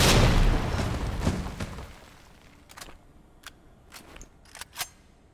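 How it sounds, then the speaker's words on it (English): A loud grenade blast in the survival horror game Resident Evil 2 opens the clip, its boom decaying over about two seconds, followed by scattered sharp clicks and pops. "Be cool. Equip the nade. And let it loose."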